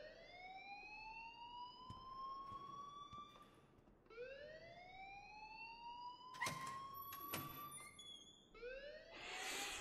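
An alarm rings in the video game Life is Strange, a loud rising electronic wail that repeats in sweeping cycles, with sharp clicks and bursts breaking in between.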